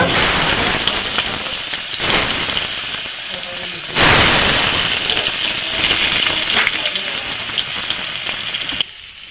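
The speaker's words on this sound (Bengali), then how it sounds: "তেলটা গরম হয়ে গেছে তেলের মধ্যে বেগুনগুলো দিয়ে" Eggplant pieces frying in hot oil in a pan for an Indian moong dal recipe, a continuous close crackling sizzle that surges louder partway through and fades at the end, with no talk.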